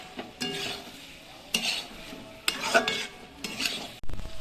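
A spoon stirring sugar into a pui mitul winter vegetable curry, with several soft scraping strokes against the pan at roughly one-second intervals and a faint simmer between them.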